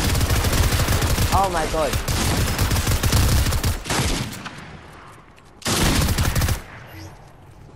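Rapid automatic gunfire from a gun in an underwater survival game, loud bursts packed densely together at first, then stopping, with a later short burst; a voice exclaims briefly between the shots.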